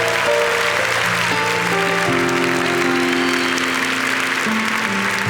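Church congregation applauding, a dense, continuous clapping wash heard close and loud, with sustained keyboard-like music tones underneath.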